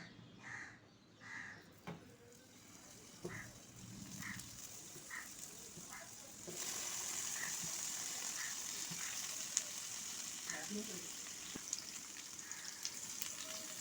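Pumpkin slices frying in refined oil on a tawa over a gas stove give a steady, moderately loud sizzle that swells midway, with crows cawing faintly now and then in the background.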